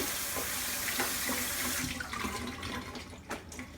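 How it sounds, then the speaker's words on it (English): Running tap water rinses soaked cashews in a kitchen sink, a steady close splashing stream that holds for the full few seconds with no talk over it. "I'm just going to give them a little bit of a rinse."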